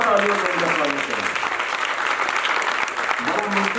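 A theatre festival audience bursts into loud, sustained applause, dense clapping throughout, while someone speaks over it at the start and end.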